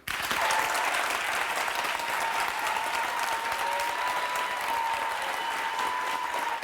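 A studio audience at a television talk show claps continuously in a thick, even wash of applause that stays loud throughout, with a faint tone running underneath.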